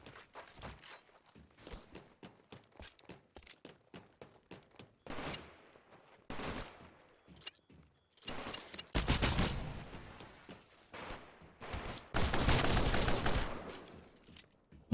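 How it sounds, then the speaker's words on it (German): Machine gun fire in the Titanfall beta, with sparse single shots and footsteps first, then loud sustained bursts of automatic fire near the end. "Okay, das ist ein MG, so wie es aussieht,"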